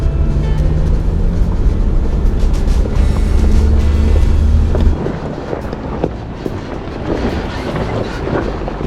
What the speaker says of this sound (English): Nice thing about the diesel, you just put it in first gear and let it idle, and it engine brakes